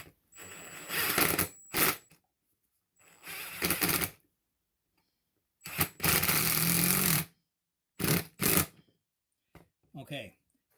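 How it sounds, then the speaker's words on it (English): A hose clamp on a feeder line of a 1986 Wellcraft boat's header is tightened in several separate bursts of ratcheting, clicking metal with short silences between them, heard close up. "I'm going to put this on and then tighten it."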